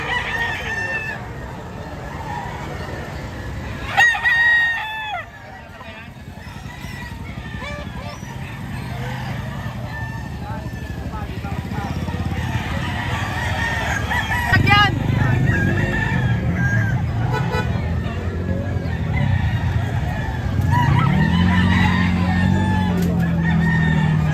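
A rooster crows loudly nearby, with hens clucking and other crowing in the background amid outdoor noise and people talking.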